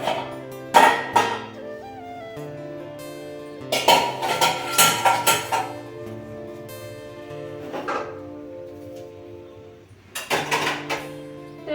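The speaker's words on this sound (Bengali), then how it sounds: "বাসনগুলো কালকে ধুয়ে রেখেছিলাম র্যাকে গুছিয়ে রাখা হয়নি সেই জন্য এখন গুছিয়ে নিচ্ছি" Dishes and steel pots clank and clatter in bursts as they are set down and stacked, with quieter gaps between clusters of knocks.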